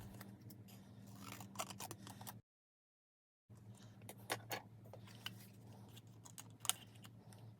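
Scissors snip through a playing card in a quiet room, a few crisp close cuts, a short silent gap, then more small cutting and handling clicks.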